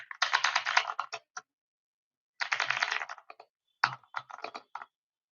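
Fingers type on a loud, clicky computer keyboard in three rapid bursts of close, crisp keystrokes, separated by short silences.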